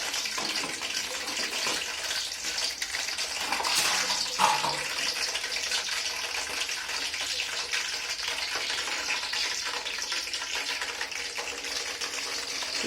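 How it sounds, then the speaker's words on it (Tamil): Murukku frying in hot oil for Diwali, a steady bubbling sizzle that stays fairly loud and even throughout, with no talking. "பாருங்க அழகா முறுக்கு சுட்டு வருது பாருங்க"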